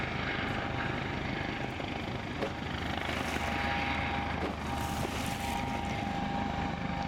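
A US Coast Guard rescue helicopter's steady, loud rotor and engine roar over downtown Detroit, close by and unbroken throughout, with no voices.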